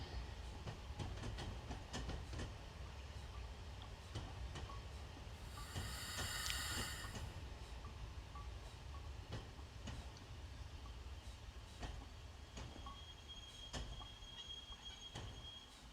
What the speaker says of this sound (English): Let's try and stop this train exactly where we need it.